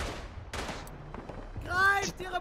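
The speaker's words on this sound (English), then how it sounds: "I went prone in front of an enemy machine gunner." Enemy machine gun fire in the World War I shooter Verdun, a few sharp bursts heard at a moderate distance with game effects, as a player speaks over them.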